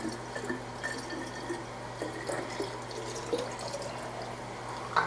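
Water kefir trickles and splashes into bottles being filled, soft liquid gurgles and drips with small clinks scattered throughout, fairly quiet and close with no talking.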